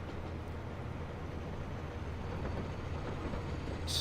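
A train runs in the Transport Fever video game with a continuous low rumble and rolling noise, steady and moderately faint throughout, with no talk.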